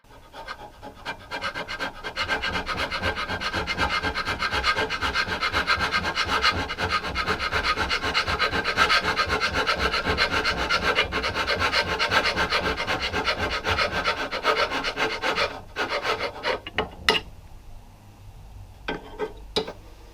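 Hand scraping the metal saddle of a mini lathe, a long run of rapid, rhythmic rasping strokes, close and even for about fifteen seconds, then slowing into a few scattered scrapes.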